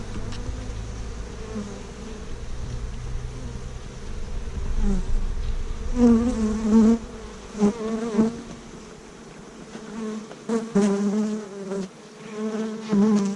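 Honeybees buzz steadily inside a wintering hive opened by a beekeeper, a dense close hum that swells and thins in waves with no talking over it.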